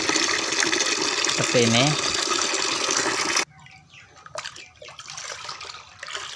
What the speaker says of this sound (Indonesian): tuangkan air sini sampai penuh